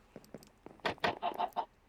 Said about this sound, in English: I realized very quickly I have a very daft chicken.